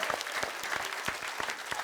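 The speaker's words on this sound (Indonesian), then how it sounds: "tepuk tangan dulu dong untuk Bintang" A studio audience on a comedy game show claps for a contestant named Bintang, a short burst of brisk, uneven applause with no voices over it.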